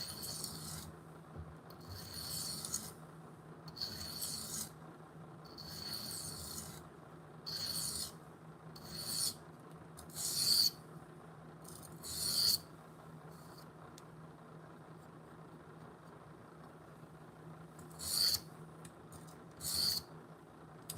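A knife drawn across a sharpening stone in slow, separate rasping strokes, a dozen or so scrapes spaced irregularly with pauses between, fairly faint over a quiet room hum and with no talking.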